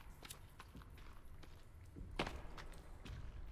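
Footsteps in the survival video game The Forest, a series of soft, irregular thuds and scuffs at moderate distance, slightly heavier near the middle, with no talking.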